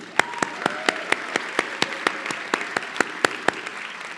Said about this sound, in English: He does deserve a round of applause.